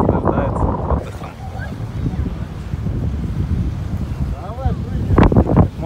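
Cold wind blows along the Black Sea shore in Sochi, a steady low rumbling buffet against the microphone, with a voice briefly heard near the end.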